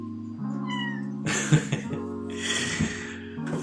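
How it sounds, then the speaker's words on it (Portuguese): A house cat hiding under a bed while someone sleeps and records gives several close meows over steady low background hum, with a snort-like breath partway through. "Esse aqui é o gato que estava tentando puxar meu pé."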